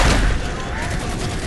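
Gunfire in the video game Halo 4, a brief dense burst of booming shots, loud and close, with a voice talking over it.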